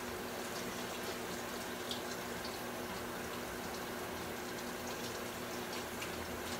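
Tap water runs steadily into a sink while hands are washed with Dawn dish soap in a home kitchen, a constant moderate gush with no talking.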